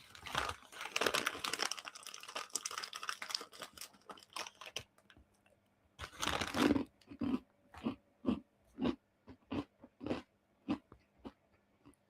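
A snack packet is crinkled and torn open, with a burst of rustling followed by a series of short, separate crackles, quiet and close.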